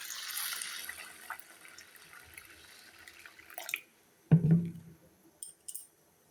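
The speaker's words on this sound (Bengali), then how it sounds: "ভালোভাবে কষলে কষলে ধুয়ে এটার যে ময়লা জল আছে সব জল ফেলে দিতে হবে।" Red lentils washed in water: soft swishing and trickling rinse sounds, then a sudden louder splash and gurgle as dirty water is poured off, followed by a few faint drips.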